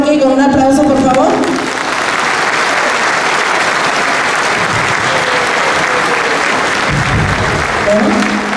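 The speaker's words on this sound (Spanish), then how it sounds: "Vamos a despedir a Roque con un aplauso, por favor." An audience at a diocesan Ultreya gathering gives a loud, sustained round of applause, dense clapping that fills the hall, with a voice speaking and musical tones heard at the start and near the end.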